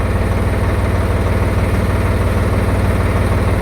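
Tractor engine idles nearby with a steady, loud low-pitched throb, an even chugging pulse that holds unchanged throughout, with no voices.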